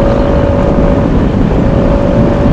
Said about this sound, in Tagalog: madungog din niya ang potong sa makina mga bay